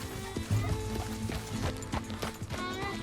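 Horse hooves clip-clop at a trot in the Western game Red Dead Redemption 2, a steady close rhythm of hoof strikes with a brief whinny near the start and a low voice faintly underneath.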